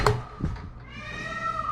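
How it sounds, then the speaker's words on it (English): Peacock calling nearby: a brief sharp cry at the start, then a drawn-out wailing call with layered tonal harmonics that rises and holds toward the end, alone without talk. "That's not a cat. That's a peacock."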